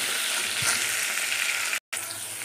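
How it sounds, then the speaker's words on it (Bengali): Sliced potatoes frying in oil in a pan give off a dense, steady sizzle, close and loud, with a faint stir partway through and a sudden momentary cut near the end before the crackle resumes. "এবারে আলুটা ভাজা করে নিচ্ছি।"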